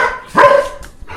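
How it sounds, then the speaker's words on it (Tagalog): Belgian Malinois dogs let out a single sharp, loud bark close by, followed by a short, fainter yip. "Ito ko sa inyo yung mga aso. For sale to. 15K isa. Wala nga lang papers. Yung Belgian Malinois."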